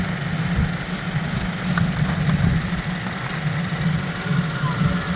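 A 2017 BMW X1 engine idles steadily after a fresh oil cooler install, giving a continuous low rumble with a faint ticking texture, close and even throughout.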